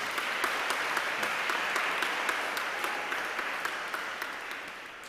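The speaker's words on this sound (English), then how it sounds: "Can we have another round of applause for Brody and Ben?" Audience applause at an awards ceremony, a steady dense wash of clapping held at an even level throughout, without talk.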